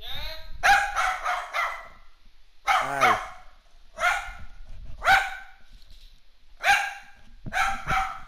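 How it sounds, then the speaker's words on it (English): A dog barks right beside the microphone in loud, close bursts, several quick sharp barks clustered in a handful of groups separated by short pauses. "I put my dog by my mic."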